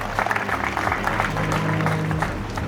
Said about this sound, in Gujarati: આપણે ફરી તાળીઓથી વધાવી લઈએ એમના સ્વાગત